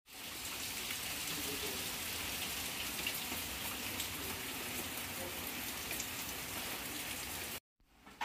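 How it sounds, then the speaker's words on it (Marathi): Heavy rain falls outside in a dense, steady roar of drops hitting surfaces, loud and close, continuing unbroken for several seconds before cutting off abruptly near the end. "खूप मोठा पाऊस येतोय, बघू शकता तुम्ही बाहेर."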